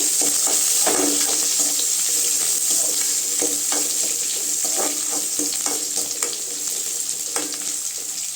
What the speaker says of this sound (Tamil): பாருங்க வெங்காயம் நல்லா வதங்கி வருதுங்க